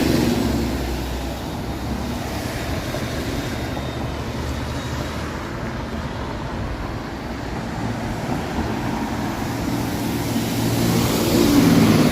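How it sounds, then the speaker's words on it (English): Heavy traffic rumbles along Eglinton Avenue in Toronto, with buses passing in a continuous loud roar of engines and tyres that swells slightly near the end; no talk. "So many buses here on Eglington. Definitely one of the busiest bus routes in the city."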